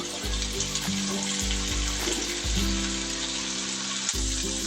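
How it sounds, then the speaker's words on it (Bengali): Fish frying in hot oil in a pan, a continuous loud sizzle with brief scraping bumps as the pieces are turned over, close up with no talking. "মাছটা ঘুরিয়ে ঘুরিয়ে অন্য পাশ ভাজবো।"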